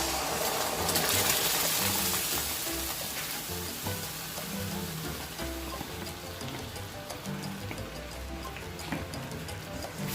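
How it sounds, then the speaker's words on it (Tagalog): Coconut cream sizzles and bubbles gently in a hot pan over a low-medium flame while being stirred continuously, a soft, steady crackle with faint scraping clicks running throughout. "in a low medium fire, we just put in our coconut cream"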